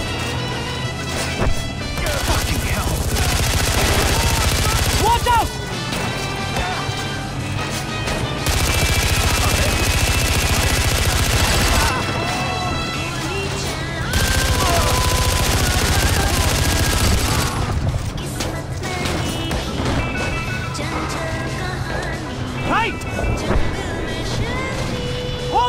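Sustained, loud gunfire in the Far Cry 4 video game, with dense bursts of automatic fire, crashes and impacts running nearly nonstop and shifting in intensity, and brief voices now and then.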